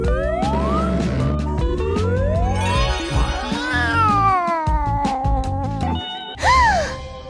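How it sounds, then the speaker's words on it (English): A cat meows repeatedly and loudly up close, long rising and falling wails with a siren-like, caterwauling quality, ending in a sharp higher cry. "I like this type of cat."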